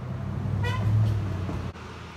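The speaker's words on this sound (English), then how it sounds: "someone just honked at me" A single short car horn toot sounds amid steady road traffic noise, fairly close, lasting about half a second.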